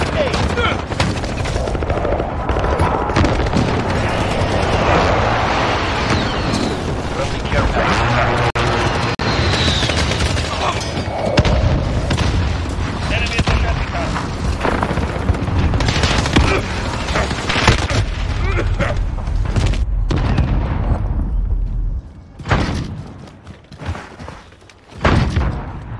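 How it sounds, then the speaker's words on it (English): Chaotic Battlefield-style firefight in a video game during an enemy precision airstrike: dense gunfire and heavy thudding explosions pile up continuously for over twenty seconds, easing into scattered bursts and booms near the end, with game voice callouts mixed in. "Enemy precision airstrike."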